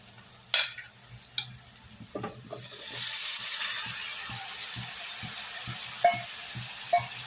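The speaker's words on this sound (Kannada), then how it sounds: "ಇವಾಗ ಎಣ್ಣೆಯಲ್ಲಿ ಇವಾಗ ಬೇಯಿಸ್ಕೊಂಡಿರೋಂಥ ಮಟನ್ ಹಾಕ್ಕೊಳ್ತಾ ಇದ್ದೀನಿ" Boiled mutton drops into hot oil with fried onion, tomato, ginger and garlic. Scraping stirs come first, then a loud steady sizzle sets in and holds to the end, with a few clinks from the spoon on the pan.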